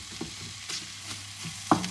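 Onion sweats and fries with rice in a pot for a coconut chicken biryani, giving a soft steady sizzle with light stirring scrapes and one sharp clink of a utensil near the end.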